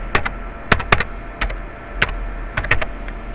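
Crisp, separate keystrokes on a computer keyboard as a command is entered in a Windows 7 command prompt, about a dozen clicks in irregular clusters, close and clear, with no talk.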